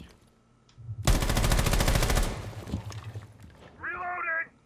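A rapid burst of automatic gunfire shoots through a wall in Rainbow Six Siege, a loud, fast stream of close shots lasting about a second, then quieter thuds and a short tonal game sound.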